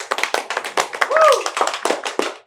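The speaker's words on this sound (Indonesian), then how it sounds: "Ya, kita tepuk tangan dulu." A short burst of hand clapping, close and fairly loud, mixed with talk from a studio audience or panel.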